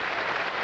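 Fans applauding at a 1988 professional bowling tournament, the Greater New Orleans Classic: a short, steady wash of clapping, fairly loud and even, with no talk over it.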